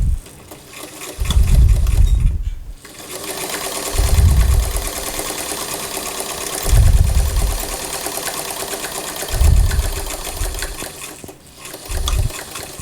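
A sewing machine stitches tucks into a Gunne Sax–inspired dress from Simplicity pattern 9542, running in several loud bursts of low, steady motor whirr separated by short pauses.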